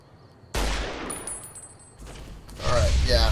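Gunfire in the video game Fallout: New Vegas, with two loud, sharp shots followed by rumbling echoes and a burst of fire-like crackling, close and dominant.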